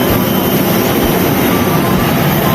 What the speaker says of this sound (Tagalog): Ganito kaingay ang airplane.